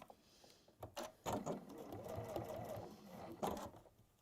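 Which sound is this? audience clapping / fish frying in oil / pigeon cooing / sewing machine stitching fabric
sewing machine stitching fabric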